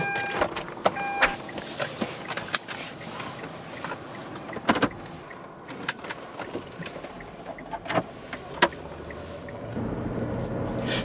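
A Hyundai Grandeur TG with a 2000cc four-cylinder engine that is short on power being driven, with low engine drone, road rumble and scattered interior clicks and knocks close by; no one speaks.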